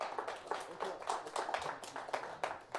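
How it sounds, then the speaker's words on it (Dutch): Audience clapping for the musicians at a concert, a fairly close burst of rhythmic hand claps with uneven pulses, moderately loud and not covered by speech. "Nog een hartelijk applaus."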